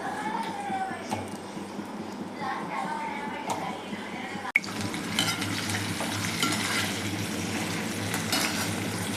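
Brinjal pieces stir-fried in oil give a steady, close sizzle for the whole stretch, with utensil scraping, clinks against the pan and a sharp knock midway.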